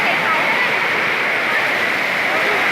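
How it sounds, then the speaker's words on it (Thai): Strong, rushing water pours over an overflowing stream at Huai Sanaeng in Surin, a steady loud wash of roar and splash, with no pauses. "น้ำไหลแรงมากครับพี่น้อง"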